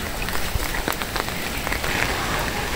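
Close, steady rain patters on surfaces in a storm-soaked Bangladeshi village, a dense hiss with scattered sharper drip taps and no voices.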